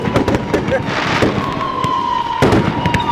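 Backyard birthday fireworks popping and crackling in quick irregular bursts, loud and close, with a steady high tone running through the middle and people's voices mixed in.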